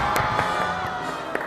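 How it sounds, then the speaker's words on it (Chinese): A group of players cheers and claps in excitement after cracking a puzzle lock in a mystery-solving game show set. The burst of whoops and applause is short and lively, with sharp claps scattered through it. "咱解开了，掌声。"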